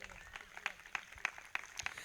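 A church congregation claps in a steady, even rhythm, the sharp claps repeating about three times a second at moderate distance, with a faint voice beneath.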